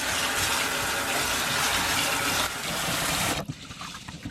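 Brown lentils rinsed under cold running water, a steady loud gush and splash pouring into a bowl for about three seconds before the flow stops, leaving faint clinks and trickles.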